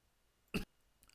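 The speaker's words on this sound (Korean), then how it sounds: "기침이 나와서 잠시 끊었다 갔습니다" A single short, sharp cough during a lecture, quiet against a silent room, followed by a faint click a moment later.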